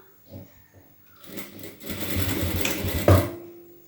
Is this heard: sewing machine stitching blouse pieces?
yes